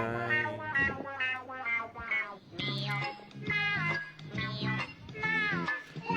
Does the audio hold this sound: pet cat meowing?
yes